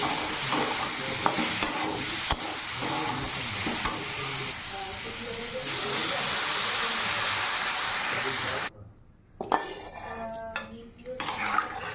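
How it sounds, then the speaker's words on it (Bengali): Cauliflower curry bubbles and simmers in a pan, a steady loud sizzle with spoon scrapes and clinks against the metal, then a brief pause followed by sharper stirring knocks near the end. "তো দেখলে ফুলকপিটা দিয়ে দিলাম তো তরকারিটা তো ফুটতে সময় দিতে হবে তো এই যে দেখো তরকারিটা ফুটে উঠেছে"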